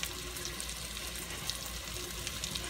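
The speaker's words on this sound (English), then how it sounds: "I'm actually going to fry up 2 at a time" Chicken piccata pieces fry two at a time in a hot pan, a steady close hiss and crackle of oil running evenly with no voices over it.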